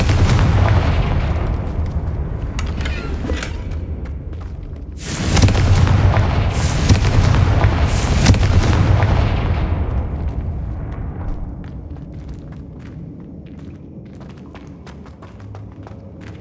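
Confringo blasting spells explode in the video game Hogwarts Legacy: heavy booming blasts with rumbling tails, a loud cluster in the middle and lighter cracks and impacts before and after.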